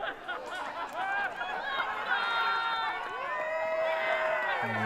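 Pickleball showcourt crowd in Brisbane cheering and shouting as players head into a timeout, a continuous murmur of raised voices and whoops filling the venue, with some nearby speech mixed in.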